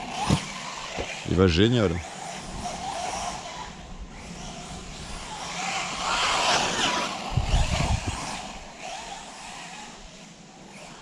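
An Arrma Senton radio-controlled monster truck drives with a buzzing electric motor whine that rises and fades, plus rolling tire noise, as someone talks over it at times.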